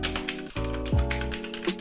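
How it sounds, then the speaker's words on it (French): Quick bursts of clacky keystrokes on an Amazon Basics gaming keyboard with blue mechanical switches, close and crisp in an uneven typing rhythm with no talking. "Les switches sont bien évidemment bleus, du coup ça fait pas mal de bruit."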